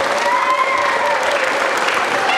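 A room full of people applauds shepherds at a vacation Bible school closing program, a steady, dense wash of clapping that stays loud and even throughout, with no voices over it.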